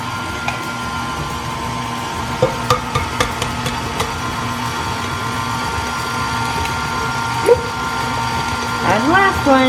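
A stand mixer hums steadily on its low stir setting as eggs are dropped in one at a time, with a few light knocks and clinks over the constant motor drone.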